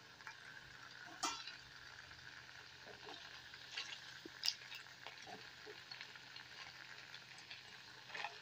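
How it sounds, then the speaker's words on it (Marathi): Rava medu vada fry in hot oil in a Konkani kitchen, a soft, fairly faint bubbling sizzle with occasional light clicks and taps, no one talking. "कलर बी बरो गोल्डन कलर येता मेरेन फ्राय करून घेवपाचें."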